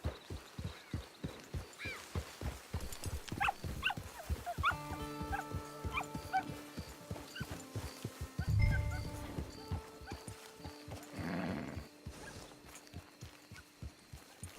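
Horses in the Red Dead Redemption 2 game world, clip-clopping hooves in a steady rhythm at close range with occasional whinnies, mixed with dog barks and layered game music near a camp.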